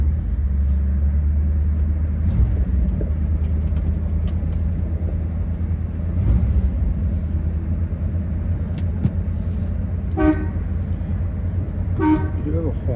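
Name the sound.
1957 Ford Thunderbird 312 Y-Block engine starting and idling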